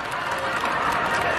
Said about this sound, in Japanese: 皆様に大きな拍手をお願いいたします。